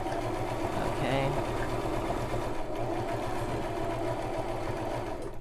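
A Brother LX3817 sewing machine runs steadily while stitching a woven blind hem, a continuous close mechanical whir and rapid needle rhythm that stays loud and even throughout.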